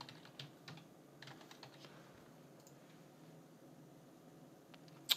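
Soft keystrokes on a computer keyboard as a username and password are typed, scattered light clicks over a low room hum, with one sharper click right at the end.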